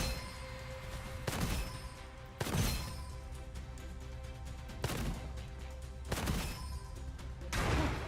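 Pistol gunfire in the Gunfire Reborn video game: five sharp, spaced shots ring out at fairly regular intervals over a low steady game background, moderately loud and without talk.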